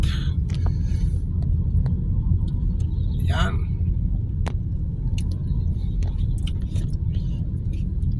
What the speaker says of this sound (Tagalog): ito yung uh, public utility vehicles in the Philippines jeep